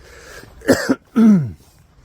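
Two sharp coughs close up after swallowing the wrong way, a quick double burst followed by a longer rasping one, with quiet room noise around them.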